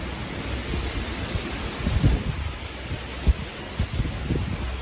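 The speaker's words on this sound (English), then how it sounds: "Wind is blowing rain everywhere." Wind-driven rain from Tropical Storm Isaias lashes the New Jersey/New York area, a steady, dense roar of gusting wind and rain with a few heavier bursts rising out of it.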